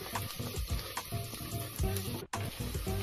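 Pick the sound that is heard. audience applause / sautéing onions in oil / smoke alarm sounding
sautéing onions in oil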